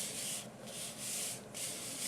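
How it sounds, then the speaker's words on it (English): An embossing buddy pouch is rubbed over Whisper White cardstock in three soft, brisk back-and-forth swipes, a close, faint scratchy rustle with no voices. "I'm going to use my embossing buddy,"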